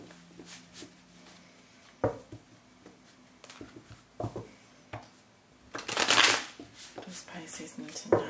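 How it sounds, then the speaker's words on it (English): Tarot cards being reshuffled by hand in a handful of quick riffling bursts, the loudest and longest near the end, with a voice talking in between. "let's reshuffle those"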